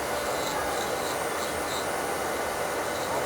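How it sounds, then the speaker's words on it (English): Rechargeable portable nail e-file running steadily with a TAFS dust extractor fan, a continuous soft whirring rasp with a faint high whine, close and even throughout, no voices. "So that was what the e-file and the extractor fan sound like."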